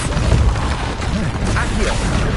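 The Repulsor spell is cast in Hogwarts Legacy, a loud dense burst of rushing, rumbling magical force that fills the whole moment with layered game effects.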